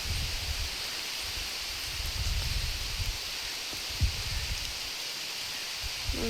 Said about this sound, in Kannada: ಚುಮ್ಮು ಚುಮ್ಮು ಚುಮ್ಮು ಮಳೆ ಬರ್ತಾ ಇದೆ ನೋಡ್ರಿ.